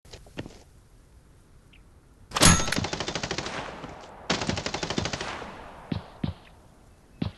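Automatic gunfire in a multiplayer battle royale squad fight: a sharp opening shot, then rapid bursts of rattling fire, followed by a few scattered single shots, fairly quiet overall with no voices.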